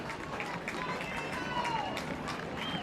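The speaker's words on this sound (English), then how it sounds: "Well, they're stomping their feet." A football crowd stomps its feet in the stands during a goal-line moment, making a dense, rumbling rhythmic thumping that fills the stadium beneath a commentator's voice.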